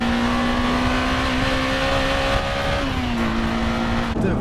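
A Honda Integra Type R pulls hard through the gears on a wet road, its engine note climbing steadily loud and close before easing briefly at a shift, with tyre and spray noise underneath.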